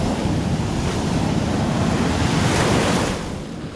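Ocean surf breaking steadily at a sunny coastal beach, a dense, continuous roar of waves with strong wind buffeting the microphone, easing slightly near the end; no voices.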